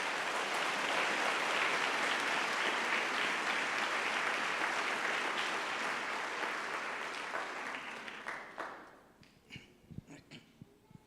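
A church congregation at an evangelistic campaign service breaks into dense, sustained applause that stays full for about eight seconds, then thins out into scattered individual claps as it dies away.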